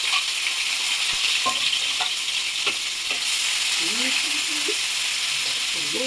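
Curry leaves and thinly sliced onions fry in a pan for an egg curry, giving a steady broadband sizzle with a few scraping stir clicks, and a voice speaks briefly near the end.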